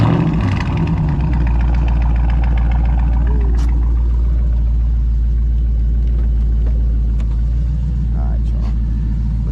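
A Dodge Charger 392 Daytona's engine fires on a warm start and settles into a steady, loud, lumpy idle rumble, close by, with a brief revving surge at the start and talk over it.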